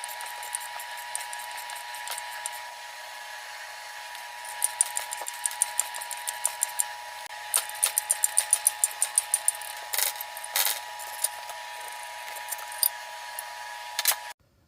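A bearing puller draws a bearing into a part on a Case bulldozer under restoration, giving a run of sharp, irregular metallic clicks and ticks, sparse at first and then quicker, over a steady low hum.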